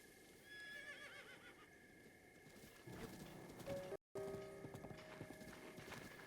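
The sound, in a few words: horse neighing in a Zelda video game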